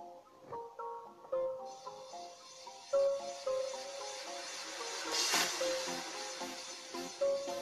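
A long mixer effect in FL Studio Mobile for an amapiano beat rises as a broad, noisy wash over a line of bright melodic notes, swelling to a loud peak midway before settling.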